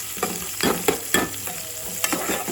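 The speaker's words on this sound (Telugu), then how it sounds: "కరివేపాకు వేసుకొని కొంచెం బాగా తాలింపు బాగా మగ్గాలి." Curry leaves and onions sizzling in hot tempering oil, with a steady fry under repeated scraping stirs of a spoon against the pan, close and fairly loud.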